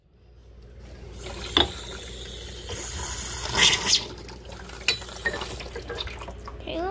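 Running water from a kitchen tap fills a mason jar at the sink, a steady broadband rush with a few sharper splashes and knocks as the flow shifts, close and fairly loud with no one speaking.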